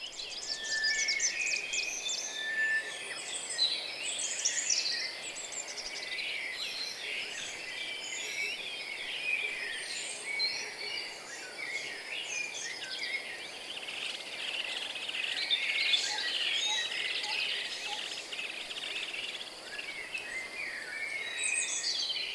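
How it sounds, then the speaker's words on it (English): Many birds sing and chirp at once in a dense, continuous dawn chorus of high, overlapping calls, with a faint insect-like hum underneath. "So I'm going to bring in both of the dawn choruses and let them sing together."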